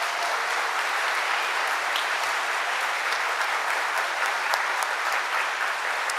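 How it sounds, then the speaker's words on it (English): A crowd at the 2024 President's E-Awards ceremony in Washington, D.C. gives a round of applause for the award winners, dense and even clapping that holds at a steady level with no voices over it. "How about a round of applause for all of our award winners?"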